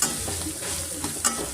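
Raw banana pieces frying in oil with garlic paste, stirred in a pan: a steady close sizzle with a few sharper scraping strokes, no talk.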